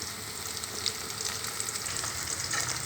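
Curry leaves crackle and sizzle in hot oil, a loud, steady frying hiss with scattered pops running throughout, close by and with no voices.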